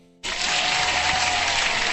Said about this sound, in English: Hand clap to you guys.